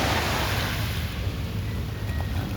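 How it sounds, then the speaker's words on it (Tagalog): Small sea waves wash at a shore near a pier with parked boats, a steady broadband rush of surf mixed with wind noise, continuous and fairly loud. "Yan, alon. Malilit lang alon guys."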